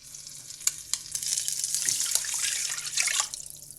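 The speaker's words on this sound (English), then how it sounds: "Don't put water into the grease." Water is poured into a pan of hot grease while cooking potatoes, giving a steady hissing sizzle with sharp pops and crackles that fades near the end, with no voices.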